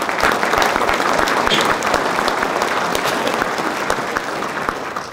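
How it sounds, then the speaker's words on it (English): Sustained audience applause at a candidate forum for North Carolina's 11th district, dense and steady clapping filling the room for about five seconds, tapering slightly near the end. "I think all of those deserve another round of applause for putting this together"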